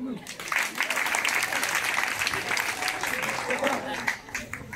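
An audience applauds at an evangelical church gathering, a steady dense patter of clapping hands lasting throughout, with some voices mixed in.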